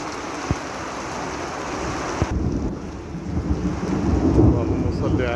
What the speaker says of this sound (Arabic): الرعد والبرق يسبحون بإذن الله